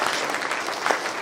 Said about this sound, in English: we should give another round of applause to him